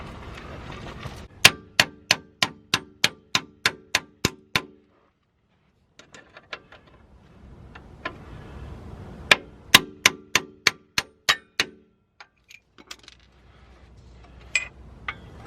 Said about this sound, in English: I'll just get an hammer.